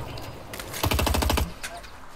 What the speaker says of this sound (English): Hey, this guy's shooting at somebody else on the left